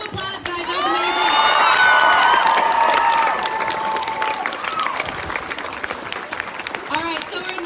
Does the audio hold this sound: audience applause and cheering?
yes